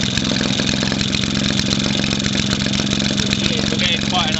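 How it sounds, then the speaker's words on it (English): 1946 Maytag model 72D vintage washing machine engine running at 1350 rpm, a loud, fast, even putter that holds steady close by, with faint talk toward the end. "it's running about the same she would at 1100 RPM"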